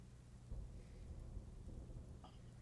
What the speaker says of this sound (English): As you listen to the pitter-patter of rain against the window.